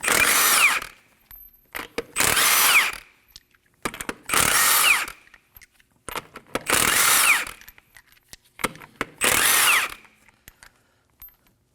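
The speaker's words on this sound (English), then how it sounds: "Using a 21mm socket, go ahead and remove the lug nuts." Impact wrench spinning lug nuts off the front wheel of a 2011-2016 Kia Optima with a 21mm socket, five loud separate bursts of about a second each, evenly spaced, with brief clicks between them and no talk.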